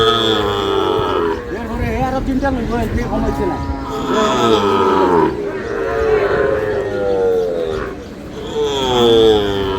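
Cattle low loudly and repeatedly, long drawn-out moos close by, with people talking in the background of a busy cattle market selling cows with calves at Raniganj, Dinajpur.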